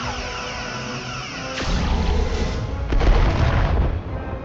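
Starship weapons fire in the Star Trek Resurgence video game, a low rumbling blast that rolls in after a sustained tone, followed by a second heavy impact and a lingering roar.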